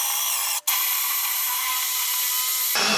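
A cheap drill bit spinning and cutting into material, a steady high whine that runs for several seconds with a brief stop before resuming, then cuts off abruptly near the end.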